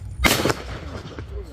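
A single sharp, loud gunshot cracks close by, fired at a crocodile in a bay near Ambon, then fades into a quieter outdoor background.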